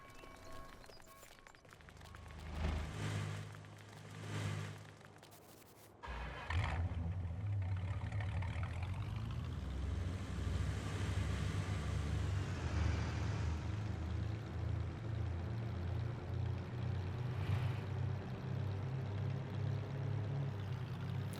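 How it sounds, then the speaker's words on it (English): Pickup truck in Farming Simulator 19 on a British map, a steady engine drone starting after a few quiet seconds of ambience, revving up and holding a running hum for the rest of the stretch. "we'll get back into our pickup truck"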